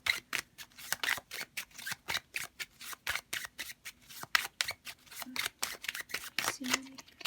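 Playing cards being shuffled and handled by hand during a tarot-style card reading, a steady run of crisp, rapid riffling flicks close to the microphone, with brief pauses between bursts.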